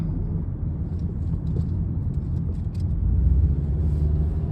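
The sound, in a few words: car driving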